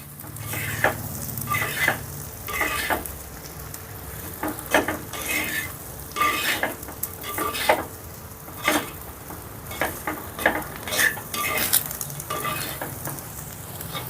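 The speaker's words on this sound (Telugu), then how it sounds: "ఈ రైస్ని స్పీడ్గా ఇలా కలిపేసుకుందాం" Basmati rice for Telangana-style bagara rice stirred briskly in a pot, a soft sizzle broken by repeated scraping and rustling strokes in an uneven rhythm, close and moderately loud, with no talking.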